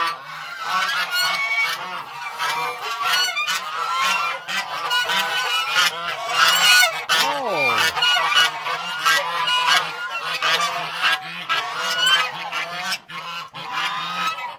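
A flock of geese honks loudly inside a goose shed, a close, steady din of overlapping harsh calls, with one louder drawn-out squawk partway through and no voices.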